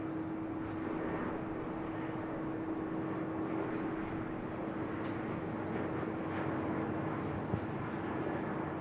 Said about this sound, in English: we do have the Lufthansa Queen making her way up here to the north.